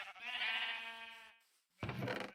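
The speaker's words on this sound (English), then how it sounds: "You can see I doubled my pen size here, but have half as many sheep." Sheep in a pen in the video game Minecraft give one long, wavering bleat, then a short, harsher second bleat, loud and close with no talking.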